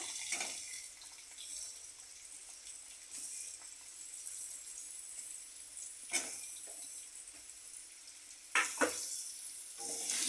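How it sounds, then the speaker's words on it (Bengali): Potato pieces fry in oil with black cumin in a pan for ridge gourd and rohu fish curry, a faint steady sizzle punctuated by a few louder stirring scrapes. "আলুটা একটু ভাজা ভাজা হলে তারপরে দেবো ঝিঙে"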